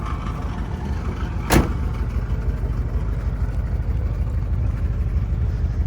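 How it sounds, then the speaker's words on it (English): A 1986 Chevy Caprice Brougham drives steadily with a low rumbling, rattling exhaust and engine drone, marked by one sharp click partway through. "don't mind the exhaust rattling"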